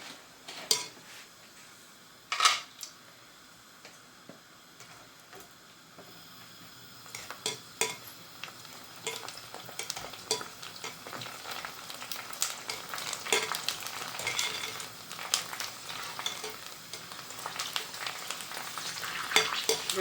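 Puris for pani puri fry in hot oil, a close, continuous sizzle with bubbling that builds in loudness over time, broken by scattered clinks and scraping of a utensil against the pan.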